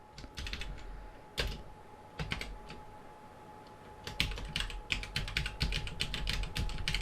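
Typing C++ code on a computer keyboard, heard as irregular bursts of close, crisp key clicks separated by short pauses. The final stretch turns into a denser, faster run of keystrokes.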